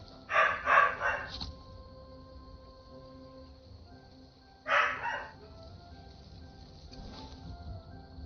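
A pair of dogs bark in two short bursts, several quick woofs at first and another cluster a few seconds later, fairly close, over a quiet room with a faint steady tone.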